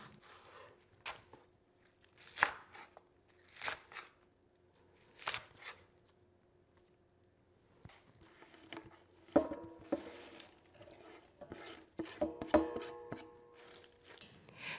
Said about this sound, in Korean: 파는 7줄기를 준비했는데요. 반으로 갈라주시고 한 4, 5cm 길이로 잘라주세요